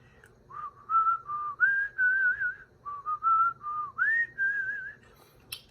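A lone whistler carries the Happy Birthday melody in clear, sustained phrases with small slides between notes, close and fairly loud, with no talking.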